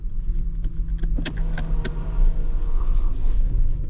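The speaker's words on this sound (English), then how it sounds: "First, starting in electric mode. Just put the car in drive and we're driving." A Mercedes-AMG GT63 hybrid pulling away in electric mode: a steady low hum and rumble with a few sharp clicks and whirs from inside the car, no engine note, no voices.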